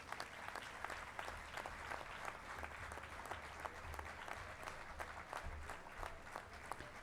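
Steady applause from the audience at a university convocation ceremony after a gold medal is presented, a dense even wash of many hands clapping, moderately distant and continuing throughout.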